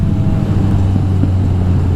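A Triumph Tiger motorcycle engine revs steadily nearby on a city street, a constant low drone at a red light, heard from another motorcycle with no talk over it.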